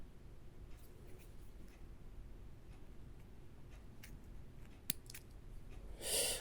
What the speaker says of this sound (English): Just cut off that little tag end.